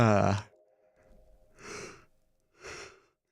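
A person lets out a long, loud voiced yawn, followed by two softer, breathy exhalations spaced about a second apart, close to the microphone.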